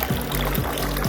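Water runs steadily from a freshly cleaned outdoor fountain with a pump, a continuous close pouring and trickling wash with faint periodic low thumps beneath.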